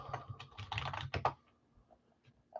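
Keys clatter on a computer keyboard in a quick burst of close, crisp taps that trail off into a few scattered strokes, with no voices.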